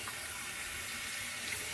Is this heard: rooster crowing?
no